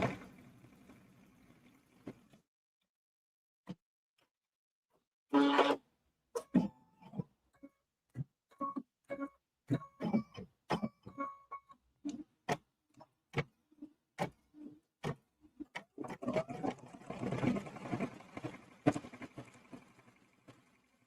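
A Kimberbell embroidery sewing machine stitching Velcro, giving quick bursts of sharp mechanical ticking and clicking with pauses between, quiet overall, ending in a denser stretch of stitching noise.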